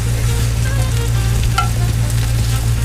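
Hamburger Helper sautés in hot oil, a loud continuous sizzle with a constant low hum beneath it and a short scrape midway.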